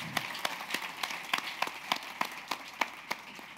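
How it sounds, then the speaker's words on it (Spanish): A small audience at a public policy conference claps for three speakers, scattered distinct claps in an uneven rhythm, fairly quiet and nearby, with no talk over them. "un aplauso a todos, a los tres expositores,"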